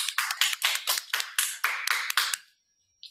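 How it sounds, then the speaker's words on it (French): Sharp clapping at a French speech contest: about a dozen crisp, separate claps in a fairly quick rhythm, close and clear, ending abruptly in silence. "Vos applaudissements,"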